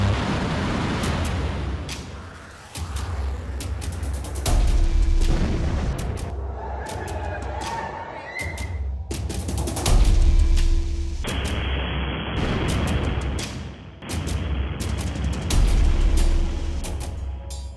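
Missile explosions strike a US army base in Qatar, heard as a series of loud, booming blasts and rumbling detonations that repeat across the span with brief gaps, some sharp and close, others rolling and sustained.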